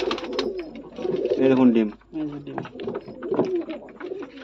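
Fancy pigeons coo in a loft, with several rolling coos close by, the clearest in the middle, under and between a man's short spoken remarks.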